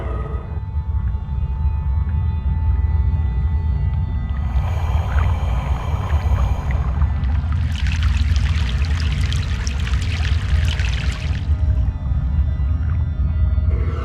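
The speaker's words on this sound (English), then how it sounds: "The second crossing of the river." Boat crossing a river in the Broken Sword 3 video game: a steady low hum of moving water throughout, with a brief burst of pouring and splashing midway, loud and continuous, no talking.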